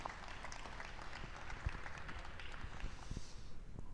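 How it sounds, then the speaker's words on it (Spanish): An audience applauds at a public gathering about the housing struggle in Buenos Aires, a steady, fairly faint patter of many hands clapping throughout. "Creo que se merecen un aplauso para este primer cierre."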